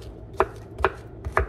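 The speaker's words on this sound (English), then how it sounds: "Look how fast I can chop things." Knife chopping plantain into thin slices on a cutting board, three sharp close knocks spaced about half a second apart with no talking.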